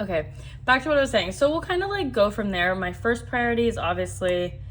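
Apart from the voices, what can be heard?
No everyday noise stands out behind the speech.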